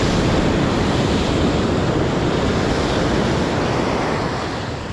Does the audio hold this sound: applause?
no